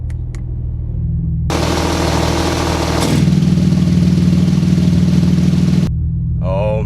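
A 2019 Porsche 911 GT2 RS engine with the exhaust button switched on, idling steadily and loud, then swelling into a deeper, heavier drone before settling back to idle.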